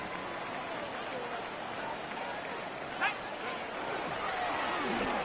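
Rain falling during a video game football match, a faint steady hiss of rain with a brief sharp sound partway through, low in level and continuous.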